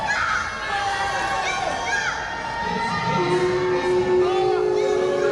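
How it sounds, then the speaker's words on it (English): A wrestling crowd at a live match roars and whistles, building in volume with shouts and cheers layered over a continuous noisy din, with a voice speaking through it. "Valo trying to shush the crowd, but all it's doing is just making them louder."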